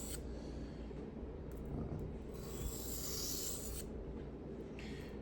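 Steady abrasive rasping as a Spyderco knife blade is drawn across a sharpening stone, continuous and close, with a few brighter scraping strokes standing out.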